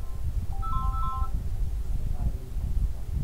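A multimeter in continuity buzzer mode, checking an HP Pavilion G4 laptop motherboard, gives a short burst of several quick electronic beeps over a low background hum.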